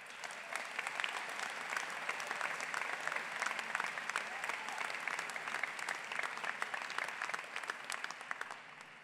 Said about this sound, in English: Now, let us hear a round of applause from you for your support group.